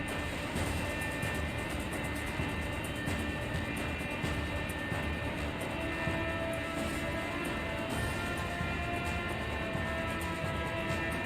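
Continuous rushing engine roar of a spacecraft in flight in the game Freelancer, steady and moderately loud with no breaks.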